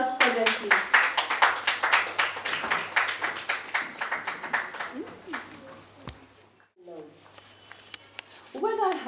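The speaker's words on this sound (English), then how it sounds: "Can we have a round of applause for them, please?" An audience claps for poetry readers at a reading event. The sharp, fairly rhythmic hand claps last about five seconds, then die away into a pause before talk resumes.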